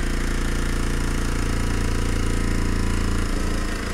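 A small steam engine runs with a dense, continuous mechanical chugging and rattling, loud and close, its low rhythmic beat shifting slightly near the end.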